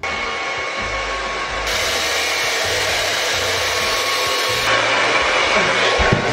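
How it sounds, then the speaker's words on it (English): A hair dryer roars steadily at close range, its pitch and force stepping up partway through, with faint voices beneath the whir. "Do you have a dryer? I have a hair dryer, yeah."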